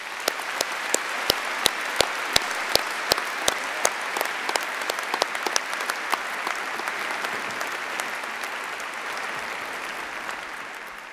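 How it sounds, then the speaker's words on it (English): Steady audience applause at a university Faculty of Engineering commemoration ceremony, honoring college staff, with dense sustained clapping and sharp individual claps standing out throughout, loud and continuous with no speech. "please join me in giving all of them a really well-deserved round of applause."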